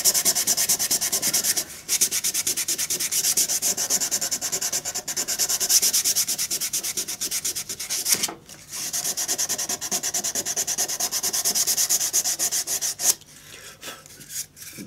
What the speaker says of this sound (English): now all I do now is sand that down so I've got it all nice and clean